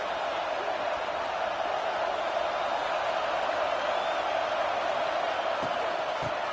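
Steady broadband crowd roar fills a football stadium during a game, a continuous loud wash of many voices with no distinct cheers or breaks, holding level throughout.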